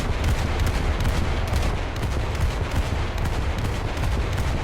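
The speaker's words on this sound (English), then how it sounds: "Must be thirsty for action, shooting at someone from this range." Naval gunfire from the cruiser Brooklyn in War Thunder, a dense, continuous roar of booming shots and rumbling blasts that stays loud and steady throughout, with no voices.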